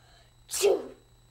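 A single sharp sneeze bursts out close up, then fades into quiet.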